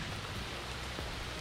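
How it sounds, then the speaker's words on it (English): Heavy rain pours down outdoors beside a creek, a dense, steady hiss of drops with nobody speaking. "Yeah, round two of the rain is here. It is pouring once again."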